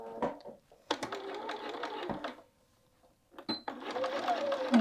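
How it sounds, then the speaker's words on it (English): A sewing machine runs a 1/2-inch seam attaching a quilted jacket hood, in short bursts of fast needle chatter separated by a brief pause, close and fairly quiet. "now we're going to head over to our machine and we're going to sew a 1/2-inch seam allowance"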